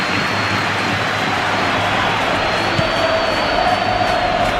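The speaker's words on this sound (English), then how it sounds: "it's applause all round us here" Steady, dense applause and crowd noise fill a football stadium during a Brazil versus Spain match, broad and continuous with no distinct individual voices.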